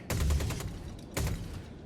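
Gimbaled main gun on a Star Citizen ship firing two loud, punchy bursts about a second apart, each with a sharp onset and brief decaying tail.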